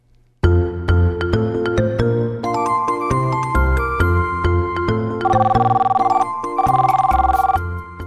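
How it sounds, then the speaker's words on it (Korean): A telephone rings loudly and close as a restaurant is called, playing a repeating electronic ringtone of melodic chiming tones that carries on for several seconds with no speech. "오늘 대화에서는 이재훈 씨가 식당에 전화를 합니다"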